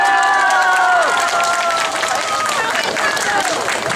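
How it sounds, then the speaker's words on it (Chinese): Dense crowd applause mixed with cheering and shouting from diners at a lively banquet concert in a Taiwanese community village, loud and sustained throughout, with voices rising above the clapping. "给我一点掌声吗？"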